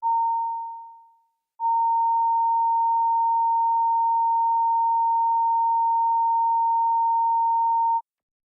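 A steady pure sine test tone for a sound check in Committee Room 29 sounds alone, first a short tone fading away, then after a brief gap a long unbroken loud tone of about six seconds that stops abruptly.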